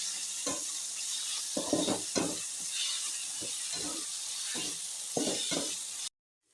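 Vegetables for veg fried rice frying in a pan, with a continuous sizzle and a series of repeated scraping stirs in uneven rhythm, close by, with no voices, ending abruptly in silence.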